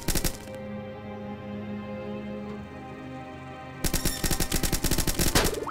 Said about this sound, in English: I'm being shot from below. And above!